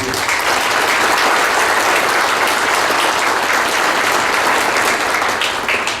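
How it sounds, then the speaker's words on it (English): A hall of fame luncheon and induction ceremony audience applauds in a dense, steady wash of clapping that stays loud and continuous from start to finish. "I'd like to give them a quick round of applause."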